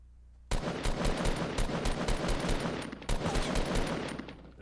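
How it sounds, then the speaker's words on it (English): Rapid automatic gunfire in a shooting video game squads match, two loud, sustained bursts of quick shots separated by a brief pause. "That's me shooting at a guy"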